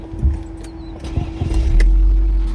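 2013 BMW X3 pulling away, with a few light clicks and knocks first, then the engine note swelling into a steady, louder rumble close by; no talking.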